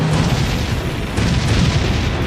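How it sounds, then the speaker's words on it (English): Cannon fire in Bravely Default rumbles as a loud, continuous barrage of booming blasts, close and dense, with no talk over it. "Cannon fire? This is madness!"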